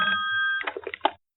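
A telephone rings with a steady tonal trill that then breaks into choppy, pulsing bursts, close and fairly loud, with no talk over it.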